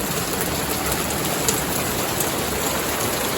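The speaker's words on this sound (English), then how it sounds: "Maybe we'll wait until this heavy downpour stops" Heavy rain pours down steadily outdoors beside a cordwood house under construction, a loud, dense, unbroken hiss with no voices.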